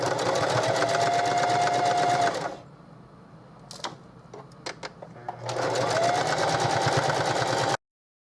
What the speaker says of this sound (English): I'm going to go back to the sewing machine and stitch around this like this